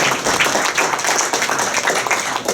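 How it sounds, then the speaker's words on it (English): A round of audience applause at a tech talk about Arduino-based HID attacks, dense scattered clapping with uneven peaks, moderately loud and continuous with no voices over it. "Big round of applause for my friend."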